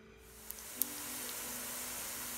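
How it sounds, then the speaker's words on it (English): Thin keto low-carb french fries frying in hot oil, a steady, even sizzle and hiss that holds throughout at moderate level, with a couple of faint ticks and no talking. "They're frying beautifully."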